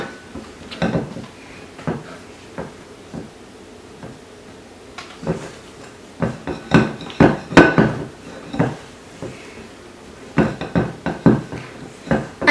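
Spatula strokes and taps against a bowl while French macaron batter is mixed, irregular knocks and scrapes in uneven bursts, fairly close and clear with quiet gaps between.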